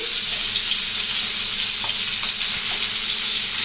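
Fish fries in hot oil with coconut, giving a steady close sizzle and crackle that stays at an even level with no talking.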